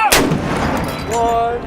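Civil War cannon firing, a single loud, close blast with a booming tail that rolls away over under two seconds.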